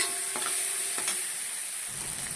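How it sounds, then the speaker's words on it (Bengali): Mutton curry gets stirred in a pan after salt and turmeric go in, giving a steady soft sizzle with a couple of brief scraping knocks from the spoon, alone and fairly quiet. "এবার এগুলোকে একটু ভালো করে মিশিয়ে নেব"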